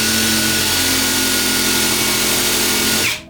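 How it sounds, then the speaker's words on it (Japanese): A power tool chamfers a screw hole in wood while a circle-cutting jig for a plunge router base is being built, giving a loud, close, steady high-pitched whir that runs for about three seconds and then winds down. "この部分にちょっと面取りをします"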